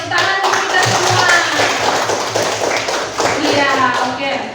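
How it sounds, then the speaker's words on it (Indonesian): Classroom of children clapping hands together, brisk rhythmic applause at close range mixed with chatter and voices of kids and a teacher. "tepuk tangan untuk kita semua"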